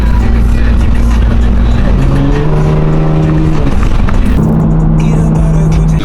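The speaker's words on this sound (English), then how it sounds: "Little cold start for the boys." A car engine cold-starts loudly and alone, settling into a steady, high idle with a sustained drone and a shift in pitch partway through.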